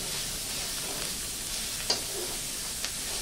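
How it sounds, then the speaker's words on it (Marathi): Chopped onion sautéing in a pan for Nashik-style misal, a continuous gentle sizzle and hiss with a couple of faint utensil taps. "कांदा परतला जातोय, हे बघा एकदम खमंग कांदा परतायचा."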